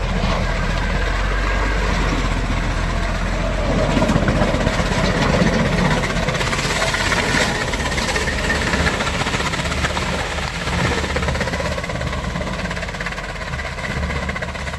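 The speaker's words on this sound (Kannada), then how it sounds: "ನೀವು ನೋಡ್ಬೋದು ಗಾಡಿ ಯಾವ ರೀತಿ ಕಟ್ ಮಾಡುತ್ತೆ ಅಂತ ಹೇಳ್ಬಿಟ್ಟು" A farm vehicle cuts up banana plants in a field, giving a loud, continuous engine drone with a rough mechanical rumble that holds steady throughout.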